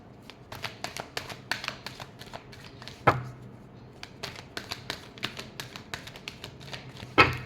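A deck of tarot cards is shuffled by hand in a quiet room, giving quick soft riffling taps and flicks in uneven bursts, with two sharper knocks standing out.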